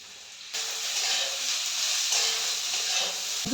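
Steady, bright sizzling of beans and carrots frying in a hot pan, starting abruptly and holding loud and even, with a light clatter near the end.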